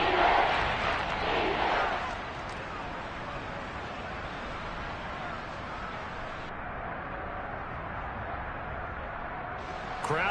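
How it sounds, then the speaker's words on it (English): A football stadium crowd roars loudly at first and then settles into a broad, sustained murmur of cheering that lasts the whole stretch. "Crowd getting in it a bit already."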